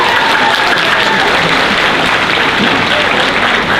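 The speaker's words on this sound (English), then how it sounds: "Give them all a round of applause as well." A convention crowd at a closing ceremony claps loudly and continuously, a thick roar of applause with cheering throughout.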